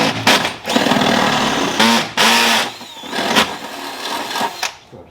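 A rivet gun sets a 6mm rivet while a shifter is fitted in a Renault Clio 182, giving several loud, close mechanical bursts separated by short gaps.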